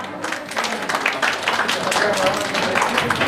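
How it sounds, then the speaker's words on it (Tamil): Audience applause at a Jos Alukkas event, a steady wash of many hands clapping throughout, moderately loud, with a voice talking over it. "ஒரு பெரிய கைத்தட்டல் கொடுத்துடலாம்"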